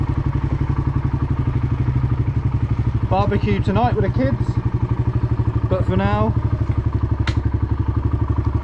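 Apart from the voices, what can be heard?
motorbike engine running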